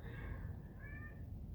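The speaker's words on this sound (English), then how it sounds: "One of my cats." A house cat gives two faint, drawn-out meows, one after the other, over a steady low background hum, with no talking.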